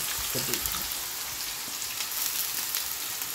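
Eggplant and a couple of bay leaves fry in a pan with a steady, close sizzle that holds evenly throughout, with a few faint low knocks beneath and no talking.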